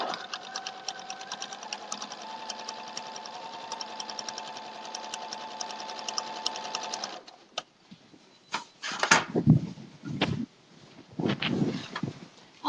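A sewing machine runs steadily while stitching a log cabin quilt, a fast even whir for about seven seconds, then stops and gives way to fabric handling and a few brief mechanical clicks.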